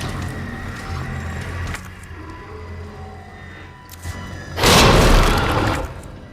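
A loud grenade blast in Resident Evil 2 Remake, a broad booming burst near the end rising over a dense rumbling game background, with no voices.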